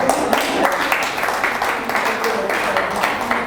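An audience claps for a doctor at a breast cancer awareness talk, a steady wash of dense applause running throughout at moderate loudness with no clear pauses.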